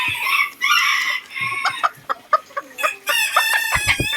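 A small bantam rooster crows in a high, strained call, then bantam hens cluck in short bursts nearby, loud and close with no talking.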